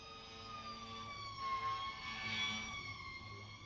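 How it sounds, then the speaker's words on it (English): Emergency vehicle sirens wail outside, a steady rising and falling tone with layered harmonics, moderately loud and continuous over a low rumble of traffic. "Sorry about the sirens, guys."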